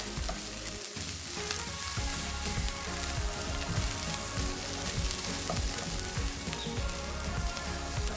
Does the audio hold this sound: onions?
yes